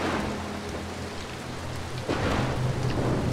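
Lightning and thunder in the stealth video game Mark of the Ninja: a dense, steady rain hiss runs throughout, and a heavier rumbling surge of thunder swells in about two seconds in.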